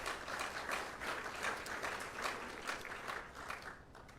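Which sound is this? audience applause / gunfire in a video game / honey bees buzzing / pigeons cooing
audience applause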